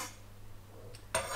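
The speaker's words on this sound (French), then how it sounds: "Et je fais tomber donc ma boule de pâte dans la friture." A ball of carnival fritter dough drops into frying oil heated to about 170 degrees, setting off a sudden close, bright sizzle near the end after a quiet low hum.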